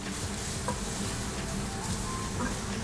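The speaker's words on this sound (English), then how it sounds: "Pump in some onions. Get those sauteing." Onions saute in a hot pan with a continuous, even sizzle and crackle, fairly close and steady throughout, with only faint stirring touches and no talking.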